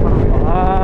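Strong wind buffets the microphone during a night motorcycle ride, a loud, continuous rumbling roar with a steady engine hum running underneath.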